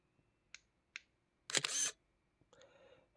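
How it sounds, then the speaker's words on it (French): A Firefly digital otoscope takes a photo with a crisp shutter-like click, preceded by two faint beeps and followed by a softer fading tone, close and quiet. "vous pouvez directement prendre la photo"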